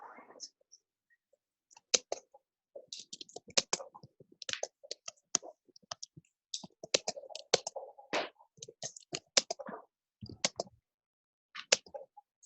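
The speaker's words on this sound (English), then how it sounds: "got a loud keyboard." Loud computer keyboard typing clatters in bursts of rapid clicks with pauses, close to the microphone during an online class meeting, with a few faint voice sounds between the keystrokes.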